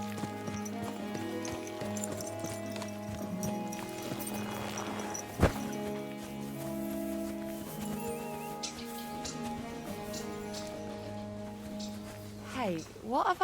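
Horse hooves clip-clop steadily in the medieval video game Kingdom Come: Deliverance 2, backed by ambient game sound and a brief neigh. The horse is ridden at a gallop, with a sharp thump near the middle of the passage.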